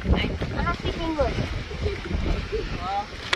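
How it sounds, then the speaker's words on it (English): Gusty wind blows across the microphone on a Cape Cod beach, a rough rushing roar beneath people talking throughout. "it's so windy."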